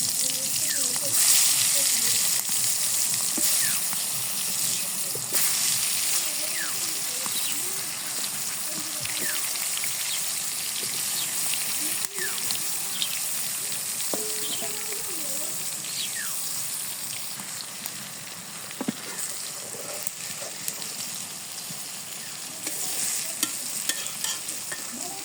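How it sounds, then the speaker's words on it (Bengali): Eggplant frying in hot oil in a wok, a steady soft sizzle running throughout with occasional stirring clinks and scrapes, moderately close. "তেল গরম হয়ে গেছে, বেগুন দিয়ে দিলাম"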